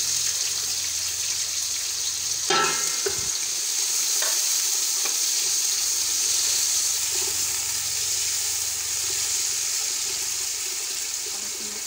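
Onions fry in oil until they turn light pink for an aloo pulao, with a continuous hiss of sizzling. A sharp clank of a utensil comes early on, then a few light scrapes as they are stirred.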